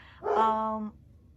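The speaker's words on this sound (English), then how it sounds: "The neighbor dogs are barking, so of course my dog has to bark back." A house dog lets out a single drawn-out, whining bark up close, answering barking neighbor dogs. The call is brief and high-pitched, with quiet before and after and no talking.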